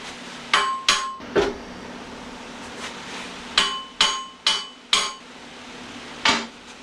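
A hammer taps a piece of steel about nine times in uneven bursts, each strike a bright, ringing metallic clang that decays quickly, close and fairly loud with no speech.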